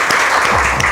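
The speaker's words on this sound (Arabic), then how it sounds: "تصفيق" Brief burst of studio audience applause during an Arabic quiz program, loud, dense and steady for under a second.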